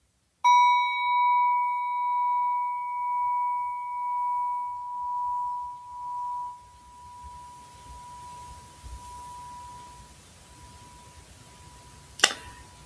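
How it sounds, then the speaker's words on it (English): Struck singing bowl ringing out with one clear, sustained tone that slowly fades over several seconds, alone in a quiet room, followed by a faint click at the end. "hearing that sound of a singing bowl gives you space"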